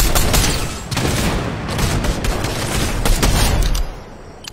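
Rapid gunfire from the video game Sabotage, bursts of shots in quick succession from a firefight, loud and continuous throughout.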